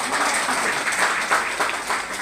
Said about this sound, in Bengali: একবার জোরে হাততালি হোক তার জন্য